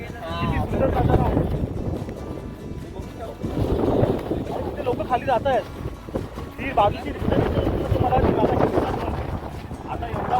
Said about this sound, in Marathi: वारा आहे ना